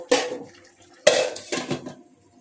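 A lid goes onto a pot of cooking chicken do pyaza, giving a few sharp metallic clanks and rattles close by: one knock, a short pause, then two quick clinks that ring out briefly.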